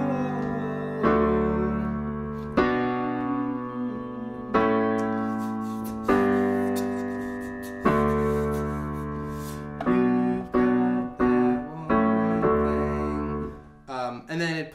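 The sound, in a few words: piano playing bridge of a song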